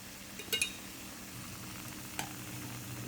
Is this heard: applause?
no